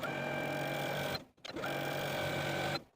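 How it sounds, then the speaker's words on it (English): A sewing machine edge stitches a dress, whirring steadily in two runs of stitching, pausing briefly between them, close and fairly quiet with no talking. "I'm going to take it to my sewing machine and edge stitch close to my finishing stitches"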